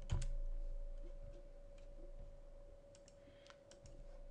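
Computer keyboard keys are struck in short, faint bursts of clicks, sparse at first and then clustering near the end, over a quiet steady hum.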